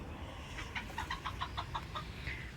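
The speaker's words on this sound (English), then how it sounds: "There's the chickens." Chickens cluck in a quick run of short, soft calls, fairly distant, with no talking.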